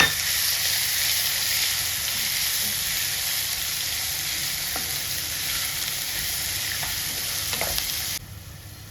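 Grated raw mango frying in tempering oil with asafoetida for mango pulihora, a steady close hiss and sizzle with a few soft stirring clicks, fading to quieter sizzling at the end, no voices.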